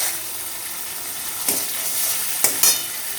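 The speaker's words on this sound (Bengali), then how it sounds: "লো ফ্লেমে রেখে আমি কিন্তু ভেজে নিলাম মশলাটা" Spices frying in a pan over a low flame give a steady, close hiss of sizzling, broken by a few sharp scrapes or stirs near the end, with no talking.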